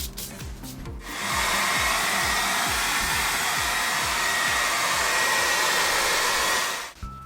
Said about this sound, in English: I'm going to hit it with a hair dryer to help it oxidize and also dry it up so I can work on it more.